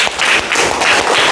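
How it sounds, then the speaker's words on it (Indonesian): Audience applause for a student group at an Indonesian school presentation, a short dense patter of clapping at steady loudness with no pauses and no voices over it. "Kita kasih tepuk tangan ya buat kelompok ini."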